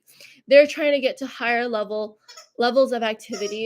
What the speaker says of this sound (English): that's my dog squeaking a toy